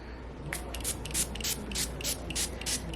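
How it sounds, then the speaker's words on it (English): Pillow spray misted from a pump bottle in a quiet bedroom: about eight short, crisp hissing spritzes in a fairly even rhythm, close and alone. "I think I'm gonna spray some of my pillow spray"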